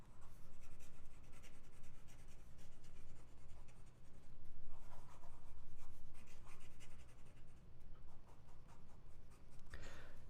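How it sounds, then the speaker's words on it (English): A Gioia Metis fountain pen with a broad nib moves quickly across paper, a close, continuous scratchy rasp of fast writing with brief pauses between strokes and no talking. "Try fast writing."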